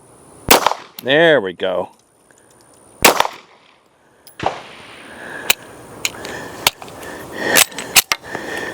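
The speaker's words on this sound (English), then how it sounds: "Let's take some shots with the APX." A Canon APX pistol firing at a range gives sharp, loud single shots spaced irregularly across the stretch. Each crack is followed by a brief echo, and someone speaks briefly early on.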